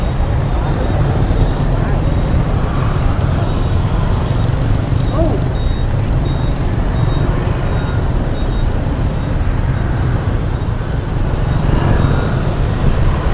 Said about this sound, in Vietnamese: xe cộ cũng rất là đông đúc nhộn nhịp ở trên những trục đường chính